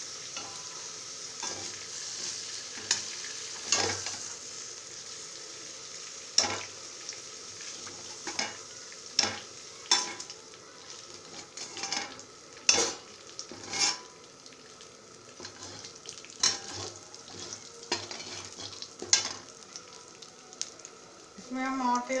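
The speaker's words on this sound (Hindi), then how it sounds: "अब इसी तेल में हम बघार डालेंगे।" Whole spices tempering in hot oil for matar paneer, a soft continuous sizzle broken by repeated sharp crackles and spatters, close and fairly quiet, with no one talking.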